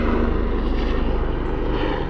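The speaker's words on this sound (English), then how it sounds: "Not very often we get a helicopter overhead." A helicopter passes overhead, giving a loud, continuous low engine drone with steady rotor pulsing throughout.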